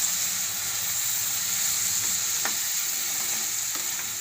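Carrots and fenugreek leaves fry and sizzle in a pan as they are stirred, a steady close hiss with a few faint scrapes and clicks from the stirring, and no talking.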